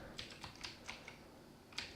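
Keystrokes on a computer keyboard while entering a Linux install command, a handful of separate clicks in an irregular rhythm, close and fairly quiet, with no talking.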